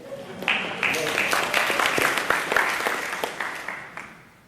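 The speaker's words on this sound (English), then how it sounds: "Round of applause there would be nice" Audience at a talk on religious diversity clapping, a short sustained round of applause that swells quickly and tapers off toward the end.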